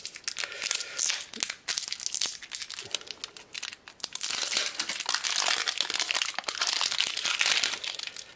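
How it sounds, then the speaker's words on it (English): Plastic packaging on a mystery unboxing prize is torn and ripped off by hand, giving loud, close, continuous crinkling and ripping with brief pauses between pulls and no talking. "people will enjoy that kind of rippy plastic sound"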